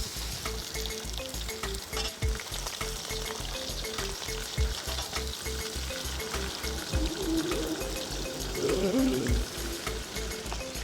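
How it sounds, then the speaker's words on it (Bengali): Onions frying in oil with spices in a pan for a potato chicken curry make a loud, steady, close sizzle, with stirring and a rhythmic low pulsing underneath, and no speech. "আমরা প্রথমে দিয়ে দেবো পেঁয়াজ"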